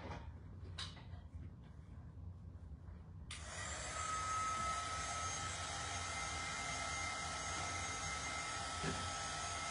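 A dryer blows air to dry freshly painted patriotic decor. After a quiet start it switches on abruptly and keeps up a steady, close whir with a thin whine.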